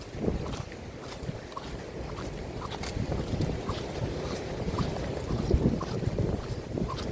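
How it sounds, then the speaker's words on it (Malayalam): A hook-and-line fishing boat comes in on the water at Azhikkal. A low, rumbling engine-like drone mixes with gusty wind buffeting the microphone and continues steadily for several seconds. "ചൂണ്ടൊരു വള്ളം വരുന്നു"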